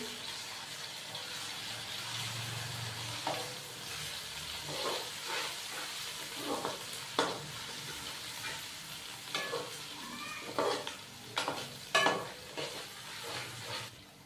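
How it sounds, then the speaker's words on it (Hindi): Ginger garlic paste sizzles steadily in a hot pan while a spoon stirs and scrapes, with intermittent clinks growing busier toward the end. "हल्का सा इसको फ्राई करेंगे।"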